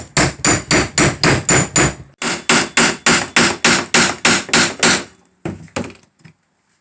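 A fabric punch is hammered to enlarge holes in a valve cover gasket for an Olds 307 V8. The loud, close, rapid rhythmic hammer strikes come in two runs of about eight blows each, followed by a couple of lighter taps. No one speaks.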